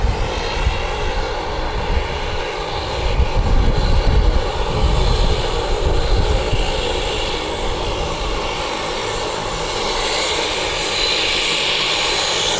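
An airliner engine rumbles and drones loudly and continuously at Wellington Airport, a deep steady roar swelling slightly at moments, with no voices.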